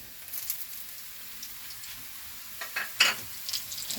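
Ground and paste spices tipped into onions frying in oil, producing a quiet continuous sizzle with a few soft stirring scrapes and clicks, louder near the end.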